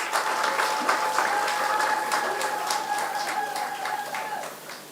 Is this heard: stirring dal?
no